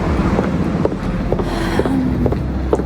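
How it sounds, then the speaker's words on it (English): Wind gusting outdoors on a cold day at a deer park in Kyoto, a steady low rumble buffeting the microphone with faint distant hums and ticks, no talking. "it's windy, a little bit cold"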